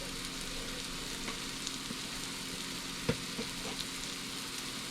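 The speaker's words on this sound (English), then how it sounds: "the sausage is cooking and we don't want it to pop on you" Sausage frying in lard on a stovetop, giving a steady close hiss and sizzle with a few faint pops and small utensil clicks, no talking.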